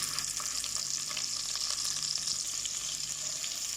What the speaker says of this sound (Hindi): ओनियन को फ्राई करना है लाइट गोल्डन कलर